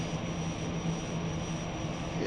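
A Pilatus PC-12/47 single-engine turboprop in X-Plane 12 taxis with a steady, loud propeller drone and engine whine that holds an even pitch throughout.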